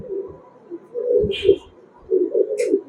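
Pakistani Highflyer pigeons, a breeder pair, coo in a few low throaty bursts close by, with short pauses between the calls.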